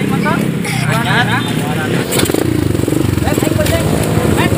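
A motorcycle engine runs close by with a steady rattling idle that rises into a faster pulsing throb, while people talk over it.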